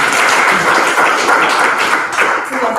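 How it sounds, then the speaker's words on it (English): Applause at a graduation ceremony, a dense wash of many hands clapping, steady and fairly loud throughout. "So I think Victor is clapping"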